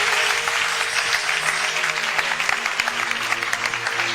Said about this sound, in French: Merci, on acclame le Seigneur.